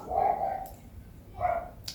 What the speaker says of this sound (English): this dog is not gonna stop